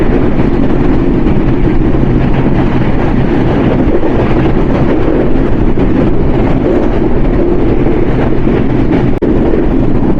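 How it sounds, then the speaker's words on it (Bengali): Panchagarh Express passing through Akkelpur railway station in Bangladesh, a loud, steady low rumble with wind buffeting throughout, close and unbroken. "আর অল্প কিছুক্ষণের মধ্যেই Akkelpur railway station through pass করে যাবে উত্তরের নবাব পঞ্চগড় এক্সপ্রেস"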